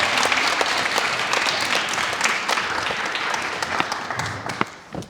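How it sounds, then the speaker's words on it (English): A women's conference audience gives a full round of applause, dense and loud at first, then thinning into scattered individual claps near the end. "I kind of just want everyone to give a round of applause for not only the speakers but for themselves as well"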